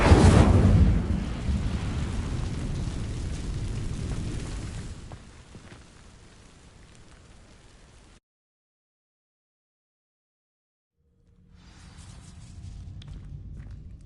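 Incendio fire spell cast on dry vines in Hogwarts Legacy: a loud whooshing burst of flame that fades into a low crackling rumble, cuts to silence, then quiet ambience returns.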